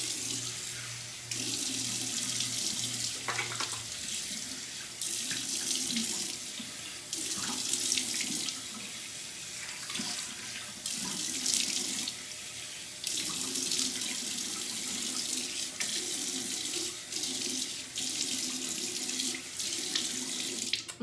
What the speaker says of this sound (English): I'm gonna rinse it off for time's sake